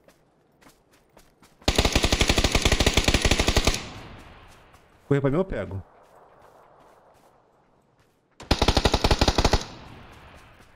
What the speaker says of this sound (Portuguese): Vou abrir fogo direito aqui.